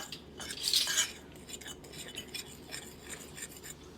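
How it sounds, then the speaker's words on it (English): Powdered sugar and pumpkin pie spice being stirred together in a bowl: faint, light scraping and clinking of a utensil against the bowl, brief and quiet, with no talking. "Kind of mix that up a little bit."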